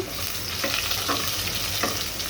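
Garlic, onion and dried chili crackle in hot oil to temper chickpea dal, a dense, steady sizzle close by, broken by a few scraping stirs.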